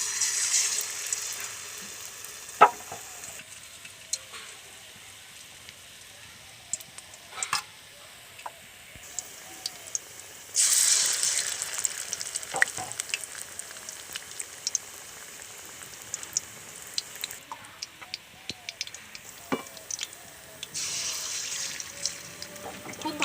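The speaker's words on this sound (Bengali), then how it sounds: "এবার হিঞ্চের চপগুলো আমি ভেজে নেব" Hinche-greens chop fritters coated in gram-flour batter sizzle in hot oil, a soft continuous crackle with brief louder bursts as pieces go in or get stirred, fairly quiet and with no talk.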